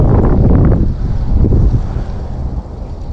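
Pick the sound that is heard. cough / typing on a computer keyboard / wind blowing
wind blowing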